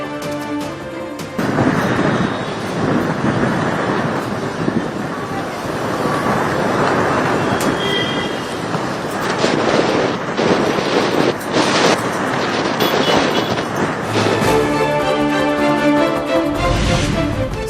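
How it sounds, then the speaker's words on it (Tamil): Roaring, gusty wind of a dust storm under dark clouds at Chennai's Marina beach, buffeting the microphone loudly and continuously, with a rushing surf-like wash throughout. "சென்னை மெரினா கடற்கரையில் கருமேகங்கள் சூழ்ந்து புழுதி புயல்."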